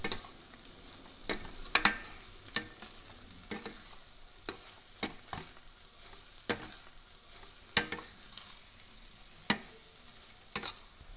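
A spoon stirs eggplant curry with chopped coriander in a kadhai, giving sharp intermittent scrapes and clacks about once a second over a faint, constant sizzle, close and with no talking.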